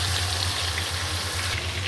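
Whole chicken pieces frying in oil with onion paste, giving a loud, continuous close-up sizzle with no pauses.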